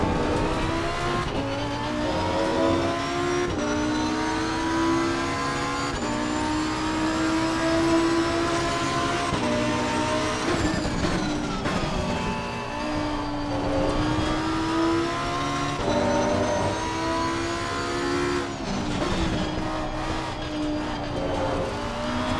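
Lamborghini Huracan EVO race car in Assetto Corsa Competizione, lapping Zolder in the rain: a loud, continuous engine note that climbs and drops through the gears, with steady revving and shifts and no voices.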